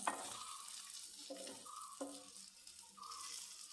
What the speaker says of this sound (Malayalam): വഴുതനങ്ങ ഫ്രൈ ആയി കഴിഞ്ഞു